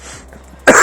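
A runner partway through a 48-hour running challenge lets out one sharp, loud cough at the very end after near silence.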